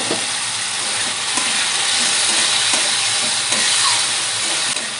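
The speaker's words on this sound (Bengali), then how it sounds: "দেখুন মশলা কষানো হয়ে গেছে" Spice masala frying in a pan for a Bengali fish curry, a loud, constant close sizzle and hiss with faint stirring clicks and no talking.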